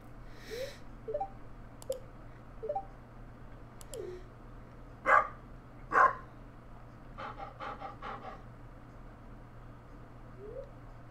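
Cartoon dog sounds from Stardew Valley, a farming video game, come as two sharp, loud bark-like bursts amid small chirpy game effects over a steady background hum.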